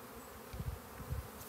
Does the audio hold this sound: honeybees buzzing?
yes